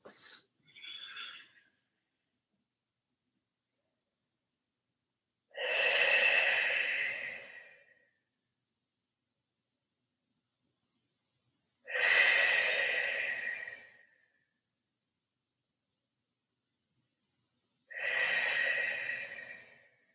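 Slow deep breathing in yoga child's pose, with a short breath at the start followed by three long, audible breaths evenly spaced with quiet gaps between them.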